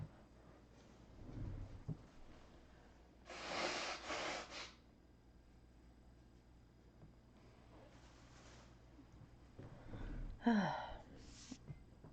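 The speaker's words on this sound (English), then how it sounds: "Let me blow my nose real quick." Someone blowing their nose close by in a quiet room: a few separate forceful, breathy blasts spread out over several seconds, with faint rustling between them.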